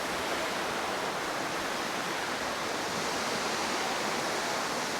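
Water pouring down the second falls of Elephant Falls, Meghalaya, makes a continuous, even rushing roar, near and full, with no speech or breaks over the few seconds.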